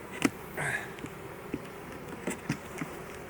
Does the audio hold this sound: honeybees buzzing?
yes